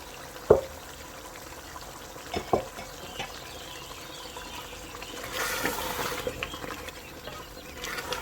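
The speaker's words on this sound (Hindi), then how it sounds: "थोड़ा सा पानी डाल के इसके अंदर ऐड करेंगे।" After a few light knocks of utensils, water is poured briefly into a pot of mutton curry with a soft, splashing rush.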